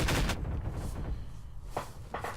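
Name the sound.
gunfire in the video game Half-Life 2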